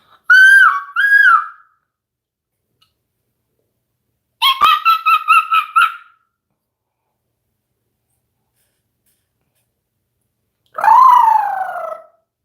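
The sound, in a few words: voice imitating animal noises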